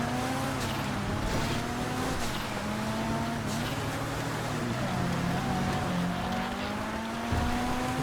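A classic 4x4 drives through snow during an off-road race in GTA Five, its engine droning steadily and loudly throughout, with small rises and dips in pitch as it accelerates and shifts.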